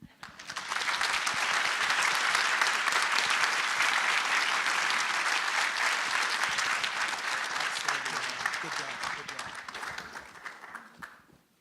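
Sustained audience applause for Eben Upton at an award event, rising quickly to a steady dense clatter of many hands, holding for about ten seconds, then tapering off at the end.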